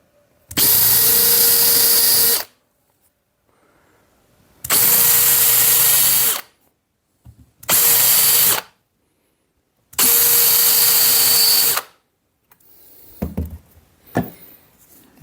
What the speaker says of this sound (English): drill through into the wood underneath.